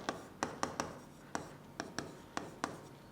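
Handwriting on paper with a pen during a maths lesson: a quiet series of short, sharp taps and scratches at an irregular pace, close up with no talk.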